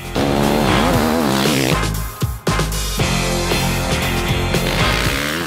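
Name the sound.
KTM 540 SXS motorcycle engine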